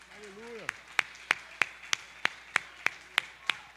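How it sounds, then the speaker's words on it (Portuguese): A church congregation claps for the Lord during a sermon: a short voice opens, then about ten sharp, evenly spaced claps follow in a steady rhythm. "Pode aplaudir o Senhor"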